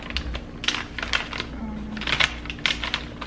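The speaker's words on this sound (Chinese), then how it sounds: "拆开给你们看一下" Crinkly rustling and tearing of a plastic package of Korean-style barbecue-flavored pork jerky from Costco being opened up close, in a run of short crackly bursts with no talking.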